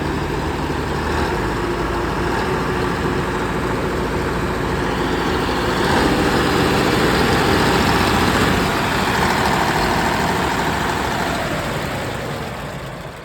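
A vehicle engine idles steadily and fairly loud, a constant low rumble that swells a little midway and fades slightly at the end, with no voices.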